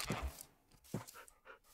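A dog in a Minecraft-style video game pants and huffs in a few short, soft breathy bursts, close but quiet.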